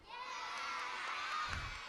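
Schoolchildren in a crowd cheer and shout together for their dancing teachers, a dense, steady roar of young voices that swells near the end.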